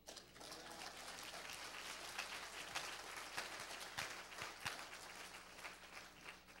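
A church congregation applauds at a distance, a steady faint wash of clapping with a few sharper individual claps standing out, lasting throughout.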